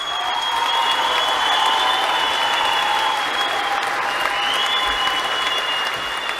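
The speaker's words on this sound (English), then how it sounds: "Let's clap it in." Audience applause fills the end of a talk show, a dense, steady patter of many hands clapping together at full strength throughout, with faint crowd noise underneath and no speech.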